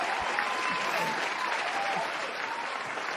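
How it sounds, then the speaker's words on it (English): Canned applause sound effect played during a live stream hangout, a short burst of dense crowd clapping at moderate volume with a slight muffled quality, running steadily throughout. "I got a sound effect for that somewhere."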